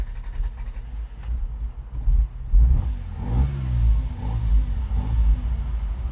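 A 1971 Ferrari 246 Dino GT's engine starts up after sitting, a loud low rumble that surges and revs unevenly before settling into a steady idle close by.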